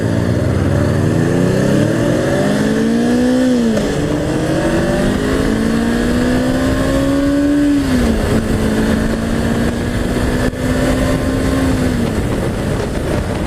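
A larger sportbike, 175 cc bigger than a CBR500, accelerates past on the road, its engine loud and close, rising in pitch through several gear changes as it pulls away.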